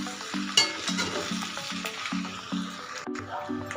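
Pasta being stirred with tomato sauce in a hot pan, a steady close sizzle with rhythmic scraping stirs throughout, no voices.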